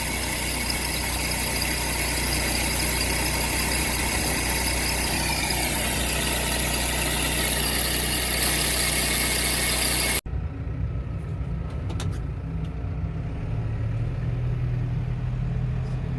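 A loud, close tractor engine rumbles, idles and revs, then cuts off abruptly partway through, leaving a quieter, lower drone afterward.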